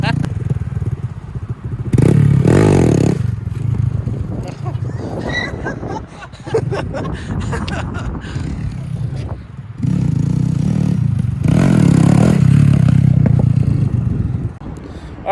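A Honda Grom motorcycle is ridden for the first time, its small engine rising and falling in revs through a fluctuating run with loud, near passes and quieter stretches, mixed with voices talking and outdoor clatter.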